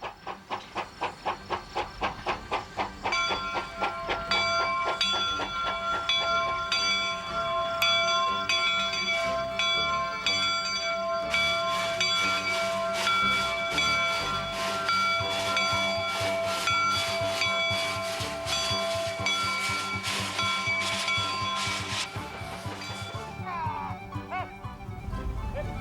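A steam train with a ringing bell runs on rails in the old American West, its bell tones chiming repeatedly and loudly over continuous rolling rail noise and hiss, with music-like sustained tones throughout.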